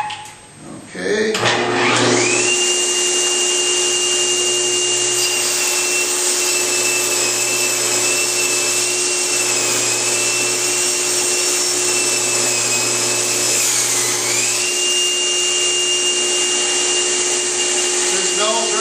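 Microkerf40 table saw blade spinning up and cutting thin strips, a loud steady high whine with a constant pitch after a quick start, dipping slightly as the cut passes through, with no speech.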